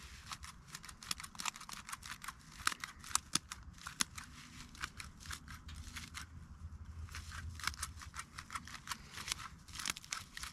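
Scissors snip repeatedly through material while trimming to blend it, a close series of crisp irregular cuts and clicks that continue throughout with no talk.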